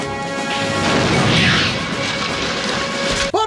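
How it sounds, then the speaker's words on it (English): A NERF M41A Pulse Rifle toy blaster playing its electronic pulse rifle sound effect, a loud continuous crackling, rattling burst filling the whole stretch before cutting off abruptly at the end. "the blaster also makes the iconic Pulse Rifle sounds"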